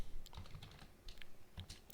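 Quick, irregular clicks of computer keyboard typing while a bootable USB flash drive is being set up, close and fairly quiet, with a sharper clack near the end.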